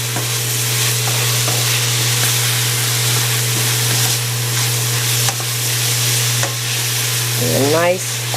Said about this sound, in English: And a nice stir fry.